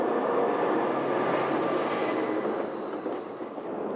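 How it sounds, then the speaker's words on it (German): Amtrak's Desert Wind passenger train pulls out of Denver's Union Station on its Chicago to Los Angeles run, a steady loud rumble of rolling cars and wheels with a faint high squeal, fading slightly toward the end. "Hier verlässt der Amtrak-Zug Desert Wind gerade den Bahnhof von Denver."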